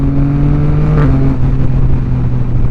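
A 2023 Yamaha XSR900 motorcycle with an aftermarket exhaust revs loudly and continuously with rapid pitch shifts, a brief quick-shifter blip mid-way like a quick gear change, close and steady throughout.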